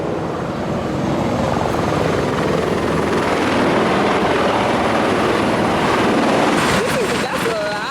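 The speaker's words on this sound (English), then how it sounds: "we are going to do the helicopter thing" Helicopter ride over Las Vegas, with a loud, steady rotor and engine roar filling the cabin throughout and brief voices breaking through near the end.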